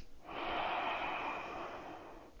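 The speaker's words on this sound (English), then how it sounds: "So breathing here, nice and slow." A single slow, deep breath taken during a yoga flow with a block, close and airy, swelling and then fading over a couple of seconds.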